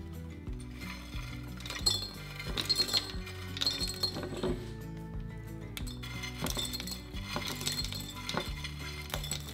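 Dried BBQ pulled pork being packed into a quart-size glass jar, with crisp rustling, scraping and clinking of dry meat against glass, several busy bursts at close range, no speech.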